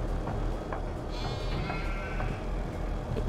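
Sheep in the Farming Simulator 22 video game give a faint bleat in the middle of a steady, noisy background, with no speech.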